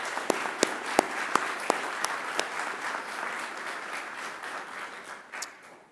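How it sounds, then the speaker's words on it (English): Graduation audience at Macquarie applauding academic staff, a broad wash of clapping with a few sharp, close claps standing out early, sustained and then gently fading. "I'd ask you to give them a round of applause too"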